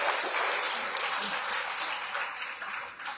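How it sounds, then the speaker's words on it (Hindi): An audience claps together at an Ekadashi program in a Gaudiya Math temple. The applause is a dense, steady wash that holds loud for about three seconds, with a voice faintly underneath. "अरे ताली तो बजा सकते हो"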